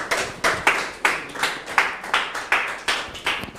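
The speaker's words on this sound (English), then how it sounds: "Please put your hands together for him." Rhythmic, evenly paced clapping from an audience at an International Women's Day event, with steady beats roughly twice per second and no talk over it.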